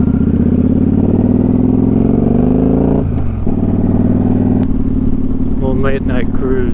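Motorcycle engine on a late-night cruise, a close, steady drone that shifts pitch as it accelerates and changes gear around the middle, with wind noise and a voice talking over the ride.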